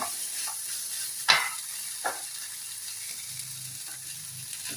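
Okra and onion fry steadily in a pan with a constant sizzle, broken by a sharp clatter as tomato is tipped in around the middle, then a softer stir; no talking.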